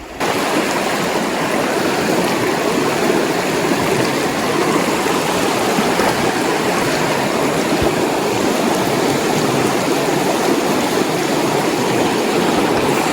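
Penns Creek, a trout stream, rushes steadily with a dense, even broadband wash of flowing water, close and continuous, no voices heard.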